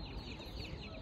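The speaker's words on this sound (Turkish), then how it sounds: "İçeride güzel bir horozumuz var. Tam köy horozu." Village rooster at a poultry market in Karaman, giving a brief, steady clucking call against a dense, noisy market background, with no one talking.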